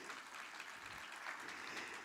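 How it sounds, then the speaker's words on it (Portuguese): An audience claps for two young grandsons standing up during a talk, a steady, diffuse round of applause from a crowd, faint and distant, without voices over it. "vamos aplaudir a vida desses meninos?"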